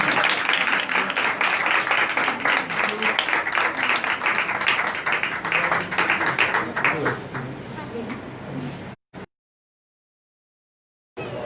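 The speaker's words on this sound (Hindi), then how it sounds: "जोरदार तालियों में" Loud, dense applause fills a church meeting hall to welcome a pastor, a continuous roar of many hands that fades slightly before cutting to silence, then briefly resumes at the end.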